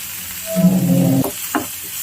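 Curry leaves hitting hot oil with ginger and garlic in a pan produce a brief, loud, close burst of sizzling and spluttering that quickly settles, followed by a couple of soft stirring scrapes.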